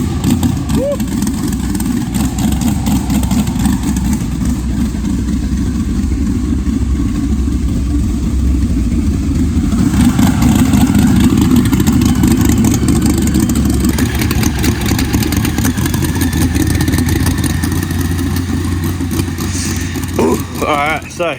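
A turbocharged 6-litre LS V8 with methanol injection runs continuously at a steady idle with slight rises in revs, loud and close in a workshop, while people talk over it.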